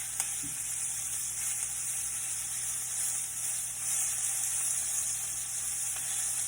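Beef pieces browning in a hot skillet for stroganoff, giving a steady, even sizzle and hiss throughout, close and moderately quiet, with no talking.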